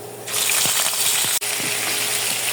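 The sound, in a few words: beef sizzling as it is added to browned garlic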